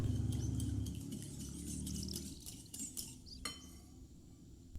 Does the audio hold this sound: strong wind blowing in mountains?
no